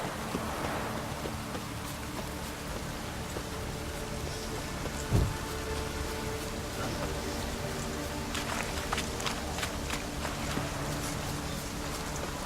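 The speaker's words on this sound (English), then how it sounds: "Looks like rain." Steady rain falls in the video game Witcher 3, a dense even patter with a single brief thump partway through and a few sharper drips near the end.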